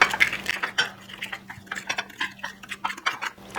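Spoon scraping and tapping against a bowl while stirring hard-boiled egg yolk filling with salt and black pepper for deviled eggs, a quick irregular series of light clinks and scrapes, close and fairly soft, with no talking.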